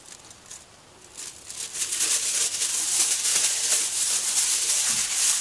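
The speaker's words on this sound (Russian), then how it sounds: "берем фольгу, раскладываем ее на поднос" Aluminium foil being handled and spread out on a tray, a close crinkling and rustling that starts softly and grows into a continuous crackle.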